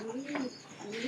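Pigeons cooing close by in a loft, two or three soft rolling coos in a row over faint background noise, with no one talking.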